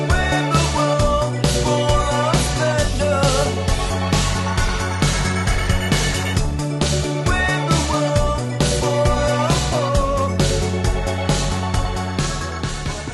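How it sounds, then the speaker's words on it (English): A pulsing synth pad from the Cherry Audio Harmonia synthesizer plays in a full electronic mix, throbbing in a steady rhythm over bass and percussion, loud and continuous, with no voices. "it's the main pulsing pad you hear"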